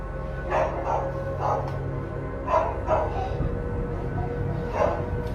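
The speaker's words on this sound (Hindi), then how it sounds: "वो लगातार किसी चीज़ को देखकर भौंकते जा रहा था।" A dog barks repeatedly at night, sharp woofs every half second to second, fairly close and loud against a steady low background hum, with a few softer yips between.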